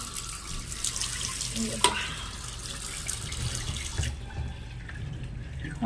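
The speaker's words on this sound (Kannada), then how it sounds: "ನೋಡಿ ಈ ಥರ ಫೋರ್ಸಾಗಿ ಬರಬೇಕು ನೀರು" Water gushes forcefully through a washing machine pipe during a deep cleaning, a loud continuous rushing and splashing that stays close and steady for several seconds with no speech.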